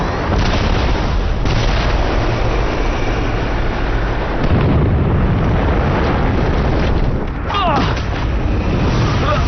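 Cartoon bomb blast in an animated superhero series, a long, loud, rumbling roar of explosions and booming debris filling the whole stretch, dense and continuous with a brief dip near the end.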